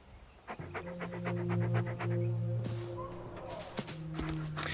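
A dog pants heavily and rhythmically in the video game Fera: The Sundered Tribes, a close, continuous run of quick breaths with footstep-like thuds and low tonal game ambience underneath.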